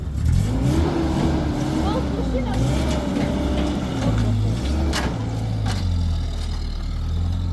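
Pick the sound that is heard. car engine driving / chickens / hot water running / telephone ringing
car engine driving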